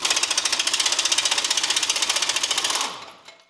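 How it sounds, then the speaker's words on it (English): An oil pan baffle on a C5 Corvette is bolted up with a power tool that rattles out a loud, fast, even hammering burst for about three seconds before stopping abruptly. "Bolt it up."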